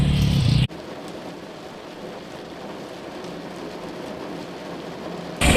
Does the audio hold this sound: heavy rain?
yes